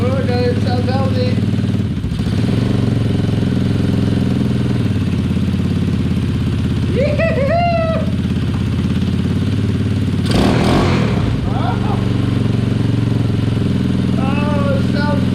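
A small engine swapped into a Power Wheels Gator runs steadily and idles with a constant mid-range drone, loud and close throughout, with a couple of brief clattery bursts and excited voices talking over it.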